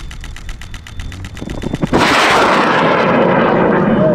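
Amateur rocket engine built by high school students igniting and launching, rapid crackling pops building for about two seconds before erupting into a loud, sustained, broadband roar that stays near and overwhelming, no voices heard.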